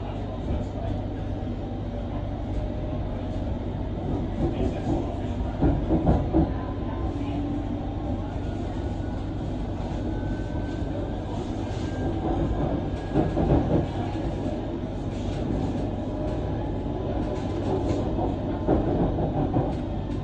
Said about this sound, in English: This is a Circle Line train via Victoria and Embankment.